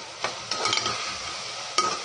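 Tomatoes and green chillies being sautéed and stirred in a pan for a mutton gravy, a steady soft sizzle broken by a few sharp scraping stirs of the spoon, close and with no talking.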